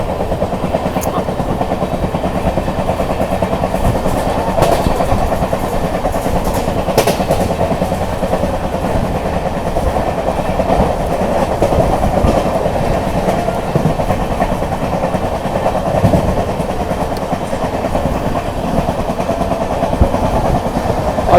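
An Amrit Bharat Express hauled by WAP-5 electric locomotives rolls at speed, a loud continuous rumble with rhythmic clickety-clack of wheels over rail joints heard from inside the train.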